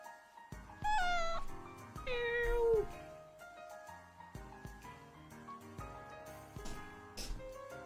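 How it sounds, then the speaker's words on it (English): A small cat meows twice, close and clear, each call long and sliding in pitch. Shorter, softer mews and faint household noise follow in a quiet room. "You guys hear meow?"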